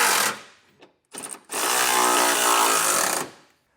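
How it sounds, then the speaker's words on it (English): Bolts on a trailer hitch receiver under a 2016 Cadillac SRX are snugged down with a 19mm socket on a power tool: two short whirring bursts, then one long, loud, steady run of close mechanical buzzing. "you can come back with a 19mm socket, and we're going to snug these all down"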